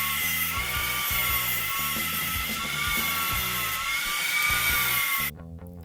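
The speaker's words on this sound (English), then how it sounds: "After that cut's finished, we just take our grinder to smooth out that edge and make it square." A grinder smooths and squares the edge of a freshly cut metal piece, whining steadily and loud from start to finish before stopping abruptly.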